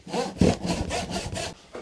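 Hand saw cutting through a large piece of firewood, with about seven rhythmic back-and-forth rasping strokes, close and clear, no talking.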